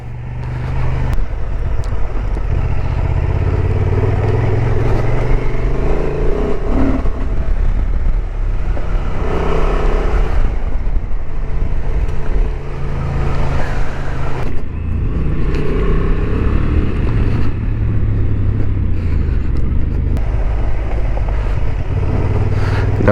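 Honda XL750 Transalp motorcycle riding in first gear over a light gravel road with small potholes, a steady loud engine drone with wind and road rumble throughout.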